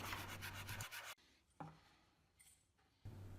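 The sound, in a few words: sanding wood pieces on a custom sanding block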